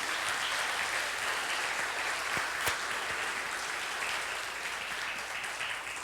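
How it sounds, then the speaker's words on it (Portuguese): A church congregation at a Sunday service applauds in praise, a continuous broad roar of many clapping hands that holds steady and tapers slightly toward the end, with no talk over it. "Pode aplaudir o Senhor Jesus?"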